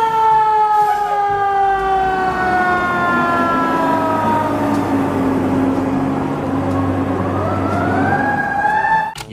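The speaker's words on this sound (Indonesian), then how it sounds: "Wow, yang ini ada mobil pemadam kebakaran." A loud electronic toy fire truck siren wails continuously, its sweeping tones rising and falling close up, with no talking over it.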